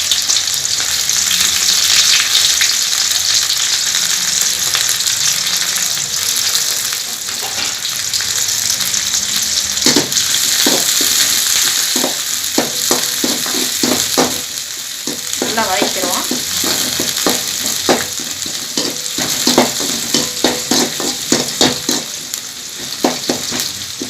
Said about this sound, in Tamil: சின்ன வெங்காயம் போட்டுக்கலாம் சின்ன வெங்காயம் கருவேப்பிலை